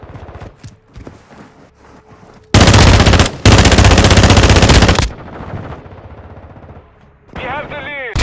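Loud bursts of rapid automatic gunfire in a console video game, one long sustained volley broken by a short gap, with quieter clicks and scattered game sounds around it.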